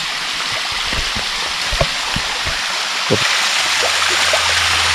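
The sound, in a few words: waterfall with stream water falling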